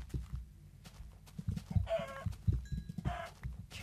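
Minecraft chickens cluck in a block-world video game, a few short, faint clucking bursts over a quiet background of soft low thumps and footstep-like clicks.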